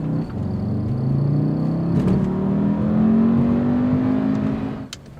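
A Volkswagen Jetta with a DSG gearbox revs up under acceleration, its engine note climbing steadily and loudly from inside the car, with a brief break near the end as the gearbox shifts.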